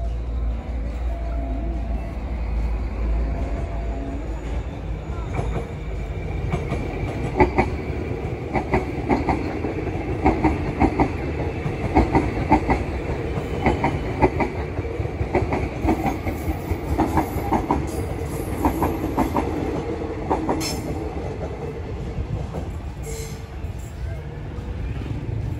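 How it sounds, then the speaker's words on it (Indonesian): KRL commuter train rolling past on the railway near Prambanan, slowing as it heads into the station, with rhythmic clickety-clack of wheels over rail joints, a steady rumble and a brief high squeal; a voice talks over it. "KRL sudah melintas depan kita dan sudah memulai untuk berjalan perlahan untuk segera masuk ke dalam stasiun Brambanan."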